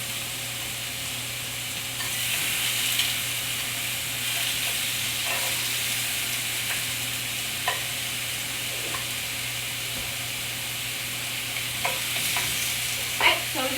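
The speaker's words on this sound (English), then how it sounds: "So we're gonna put this to sear" Oxtails searing in a pot, a steady close sizzle and hiss of frying meat with occasional stirring clatter and small pops throughout.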